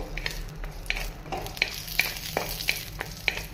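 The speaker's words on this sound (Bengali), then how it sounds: "এই অল্প একটু ঘিয়ের মধ্যে আমি কাজু কিশমিশটা একটু প্রথমে ভেজে নেব" Cashews and raisins fry in a small amount of ghee, giving a quiet steady sizzle with light, evenly spaced stirring clicks from a spoon in the pan.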